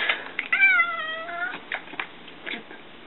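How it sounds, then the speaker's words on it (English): A house cat meows once up close, a clear drawn-out call, followed by a few softer short sounds and light rustling. "my kitty just hopped up"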